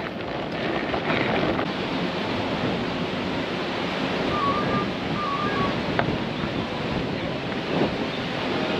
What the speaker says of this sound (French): Il est dur le vent de face? Il est un peu dur.